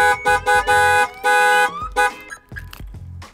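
A car alarm goes off during testing of a Linkr-LT vehicle security system, its loud electronic tones repeating in short bursts and sweeping through shifting pitches before cutting out, with no talk over it.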